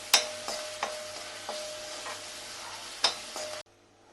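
Green chillies and ginger sauté in a pan with turmeric, giving a soft close sizzle broken by several sharp spoon scrapes against the pan, then the sound cuts off abruptly near the end.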